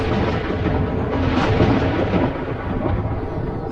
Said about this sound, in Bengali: সেই সময় দেখি জোরে জোরে বাজ পড়তে শুরু করেছে